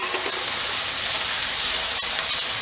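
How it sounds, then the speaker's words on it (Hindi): Green peas frying in a pan with green chilli and curry leaves for shahi matar pulao, giving a steady, close, broadband hiss of sizzling that runs unbroken throughout. "ये इसमें अच्छे से हमको मटर को थोड़ा सा भून लेना है अच्छी तरह"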